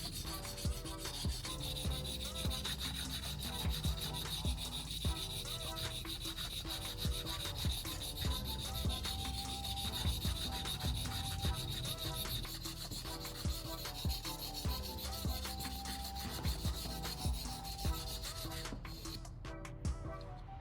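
Pruning shear blade sharpened by hand on a sharpening stone, a steady continuous rasping rub in repeated strokes, close and even throughout with no talking.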